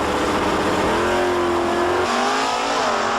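A Plymouth Cuda drag car sits at the starting line at the 1993 NHRA Canadian National Open at Race City in Calgary. Its engine roars loudly and continuously, close by, and shifts in pitch partway through.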